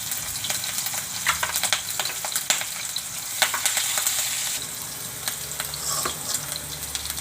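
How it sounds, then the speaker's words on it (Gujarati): Garlic and chillies fry in hot oil in a pan, a steady close sizzle with crackling pops and occasional scraping stirs, alone without talk. "આપણે આ લસણ નાખી દેવું, અને મરચાં નાખી દેવું, અને આપણે આ વઘાવણી નાખી દેવું"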